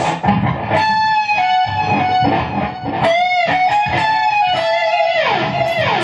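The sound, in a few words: electric guitar half-step bend and release, riff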